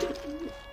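Soft pigeon-like cooing, a couple of low murmured coos close by with a faint steady hum underneath.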